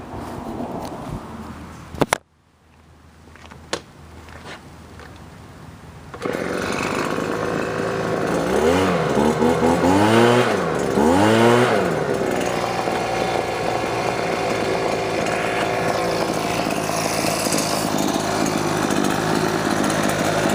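A Husqvarna 125BV gas leaf blower is started with a pull cord after a few handling knocks, then roars into a loud steady run with several throttle revs rising and falling before settling into a continuous drone.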